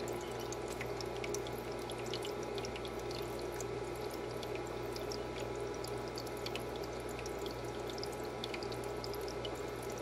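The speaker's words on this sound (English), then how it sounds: "Water is pumping all the way from the bottom, from the basket, and filling up that little container" Water is pumped up from the basket of a Tramontina portable ice maker, a steady low hum with faint trickling and dripping running evenly throughout, with no voices.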